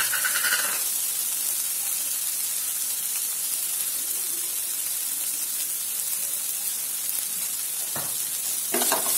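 Vegetables and masala for Maggi noodles cook in a pan with a constant loud sizzle and hiss, and a brief stirring scrape near the end, with no voices.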